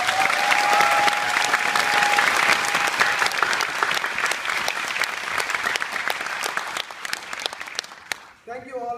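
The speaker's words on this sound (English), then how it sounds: "So please give them a big round of applause." A large graduation audience applauds the professors at a university ceremony, dense sustained clapping throughout that thins and cuts off near the end, with a short voice breaking in as it stops.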